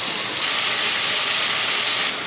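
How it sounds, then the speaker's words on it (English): Cube steak sears in hot oil in a home kitchen with a steady, even sizzle and hiss that holds at the same level throughout, with no talk over it. "just sear it a little bit in the oil"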